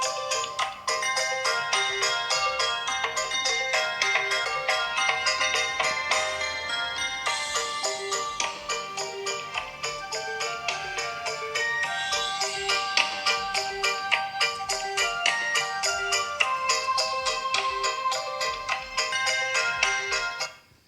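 A song plays at full volume through the built-in speaker of an iPhone 8, with bright, dense melodic tones and steady beats that run continuously and loudly for the whole stretch, with no talking over it.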